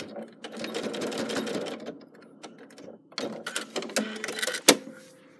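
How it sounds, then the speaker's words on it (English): Sewing machine stitching Tilda fabric for a house pomander, running in steady bursts of fast mechanical clatter with a brief pause midway and a sharp click near the end, close and moderately loud. "we're just going to stitch down to where we stopped and started last time"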